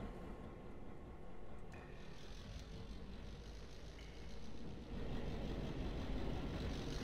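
Train engines in the Garry's Mod video game rev up, a low, continuous rumbling drone that swells and grows louder partway through, heard alone with no talk.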